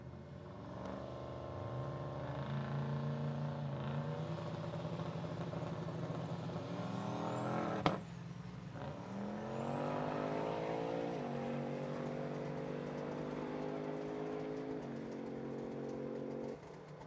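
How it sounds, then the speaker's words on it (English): Turbocharged Buick Regal and Chevrolet Nova race cars at a Miles of Mayhem drag-racing event, engines roaring steadily and revving up through gear changes, loud and continuous for many seconds with no talking. "Gotta appreciate a Buick Regal with a turbo and a Nova coming up here on the left and the right-hand side"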